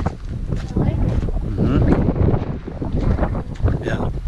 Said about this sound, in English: it's breezy for sure